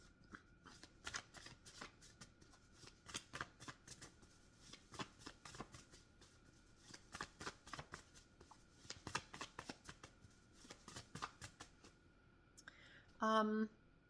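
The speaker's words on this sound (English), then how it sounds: "I'm going to pull some more cards." Tarot cards are shuffled and pulled in an intuitive card reading, giving a long run of soft, quick riffling and flicking bursts, close and quiet, with whispery texture and a brief louder rustle near the end.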